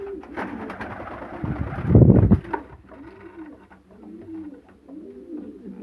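Pigeons cooing close by, soft repeated throaty coos in a loose rhythm, with a brief louder rustle or flutter partway through.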